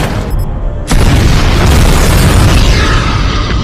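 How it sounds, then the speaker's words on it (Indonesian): A bomb detonates in a movie action scene, a sudden loud booming blast that erupts into a sustained roaring rumble filling the rest of the moment. "Setelah bom tersebut meledak"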